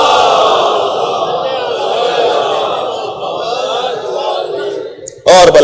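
An audience at a religious bayan recites salawat aloud in unison, a loud sustained chant of many voices that ends with a sharp burst at the close.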